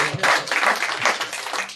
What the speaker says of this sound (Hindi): आप लोगों की तालियां चाहता हूँ।